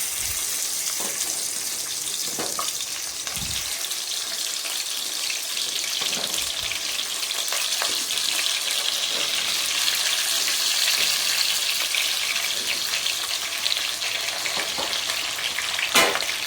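Okra dropped into smoking-hot oil for a spicy okra dish, a loud, steady close-up hiss of frying with a few soft knocks of the pan, no talking.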